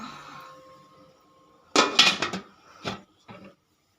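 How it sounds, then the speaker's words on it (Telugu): A metal lid is set onto an idli steamer pot holding idli plates, giving a brief clatter of clanks and a couple of lighter clinks, close by and alone after a soft hum. "మూత పెట్టుకోవాలి"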